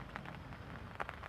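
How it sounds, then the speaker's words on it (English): Steady rain patters on a lake around a fishing bivvy during a prolonged downpour, a close, continuous hiss with scattered louder drops and no voices. "It's been about a good 2 hours now of solid downpours and showers"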